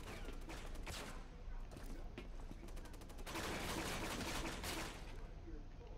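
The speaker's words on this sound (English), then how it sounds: "Something's shooting at us." Rapid automatic gunfire in the zombie shooter Resident Evil 6, with dense bursts of shots rattling continuously at moderate distance and swelling louder toward the end.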